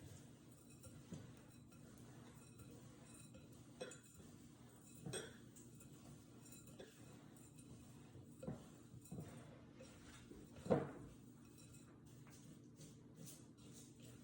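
Homemade granola with unsweetened shredded coconut being stirred together in a bowl, giving a faint, steady scraping with a few sharp utensil clinks against the bowl; no voices.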